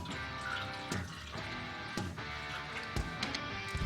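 Water being poured into the fuel tank of a Tomos Nitro 50 scooter, a continuous splashing, gurgling stream with a few sharper sloshes, close and moderately loud.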